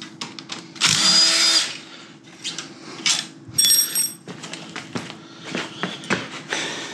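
Power drill driving out long stud bolts on a generator during stator and rotor removal, with short whirring bursts separated by pauses, clicks and metallic handling close by.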